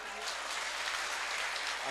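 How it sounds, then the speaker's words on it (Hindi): A mushaira audience in Kannad claps for a poet in a short, faint wash of applause that stays steady throughout. "आप जोरदार तालियां बजाएं उनके लिए"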